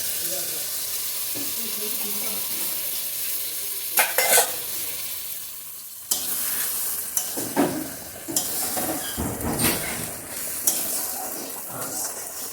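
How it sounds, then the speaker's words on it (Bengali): Coconut milk egg curry simmering in a pan, a continuous close frying hiss with intermittent spoon scrapes and bursts of bubbling sputter, no talking. "নারকেলের দুধটা দিয়ে কিছুক্ষণ ফুটিয়ে নিচ্ছি।"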